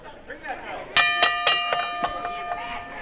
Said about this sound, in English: you were ringing the bell